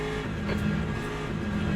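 Race car engines drone steadily and loudly in a racing video game, a dense continuous mechanical roar with no talk.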